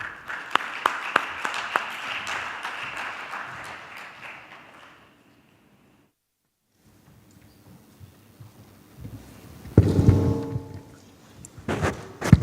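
Audience applause at a talk fills the opening seconds as dense, steady clapping, then fades to near silence; a loud rumbling burst and a few scattered sharp claps follow near the end.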